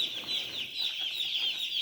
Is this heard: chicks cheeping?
yes